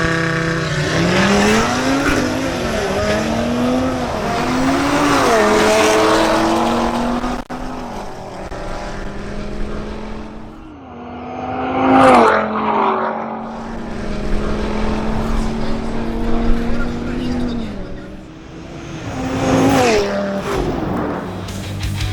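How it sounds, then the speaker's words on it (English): An Audi RS3 makes a drag race run: loud engine revs climb through repeated gear shifts, then a brief lull, with further surges and passing roars at the strip. "Next, Jason Esvidia makes another run in his Audi RS3."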